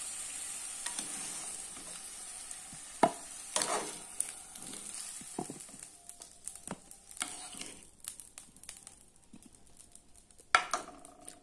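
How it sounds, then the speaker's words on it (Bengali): Pumpkin and potato pieces frying in oil, a quiet, steady crackle broken by sharp utensil taps and scrapes against the pan, with no voices. "আমি কুমড়োটা এবং আলুটা ভেজে নিয়েছি"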